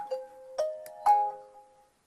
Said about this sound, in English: That means it's Nokia. Nice little ringtone.